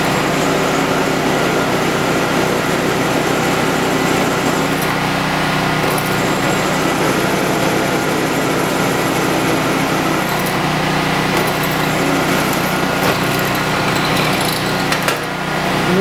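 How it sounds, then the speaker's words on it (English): A steady, continuous whine of a drill press step-drilling a hole, loud and unbroken throughout with a constant motor hum underneath. "And notice I'm step drilling."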